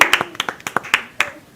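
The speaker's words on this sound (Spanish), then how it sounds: "Un aplauso para Faría." About ten sharp, separate hand claps ring out in an uneven rhythm at a church service, loud and close, then trailing off into faint quieter taps.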